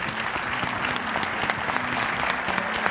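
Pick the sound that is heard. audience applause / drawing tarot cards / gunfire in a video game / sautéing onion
audience applause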